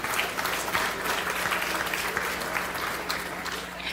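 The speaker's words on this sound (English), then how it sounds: "for a round of applause for them" A crowd at a grandstand event gives a round of applause, loud dense clapping that continues steadily throughout without voices over it.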